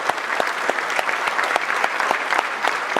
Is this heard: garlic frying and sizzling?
no